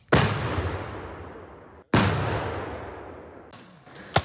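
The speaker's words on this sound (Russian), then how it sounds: "Буквально несколько секунд назад отработала артиллерия в поддержку штурмовиков." Two heavy artillery blasts fire in support of assault troops during a military exercise, each a sharp loud boom with a long rolling decay, about two seconds apart, followed by faint crackling near the end.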